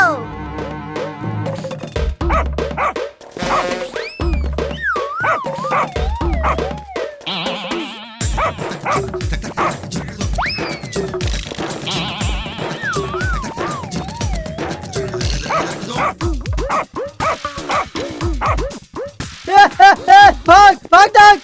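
Cartoon dog barking, yipping and whimpering in short bursts amid animated village chase dialogue, with voices talking loudly over and between the yelps and background music throughout.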